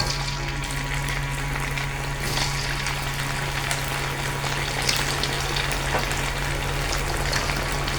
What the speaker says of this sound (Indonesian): Minyak udah panas, kita siap goreng.